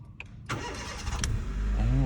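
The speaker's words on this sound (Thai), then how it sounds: "ผมไปสตาร์ทเครื่องให้ฟังเสียงเครื่องยนต์กันดู" A starter cranks briefly, then a Honda City ZX 1.5-litre VTEC automatic car engine catches and settles into a rising idle, close by and fairly loud.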